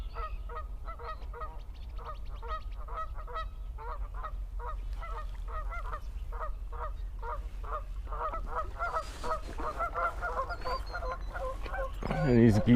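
Many geese on a shallow stream honk repeatedly in a loose, overlapping chorus, fairly close, over a low steady rumble of wind or water, growing louder and busier toward the end.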